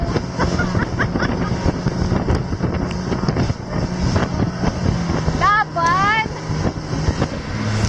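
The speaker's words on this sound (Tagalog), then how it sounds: "So talagang matataas na yung mga waves na nadadaanan namin." A motorboat engine roars steadily with heavy wind buffeting the microphone, as the hull rides over high sea waves off Palawan; voices shout faintly under the noise.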